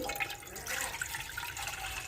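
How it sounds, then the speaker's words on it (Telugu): Water is poured steadily into a pot set on a stove to start a sesame flour curry. The soft, continuous splashing and trickling runs close up without talk. "పొయ్యి మీద గిన్నె పెట్టి నీళ్ళు వేసుకుందాము"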